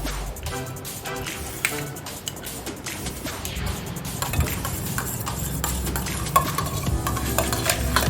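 A spoon stirs yogurt starter mixed with sugar and vinegar in a bowl, giving a close, continuous scraping and clinking that stays steady and fairly loud throughout, with no talking.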